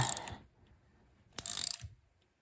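A ratchet wrench tightens a bolt on a Dodge Colt under repair, giving two short bursts of quick clicking close by, separated by a quiet pause.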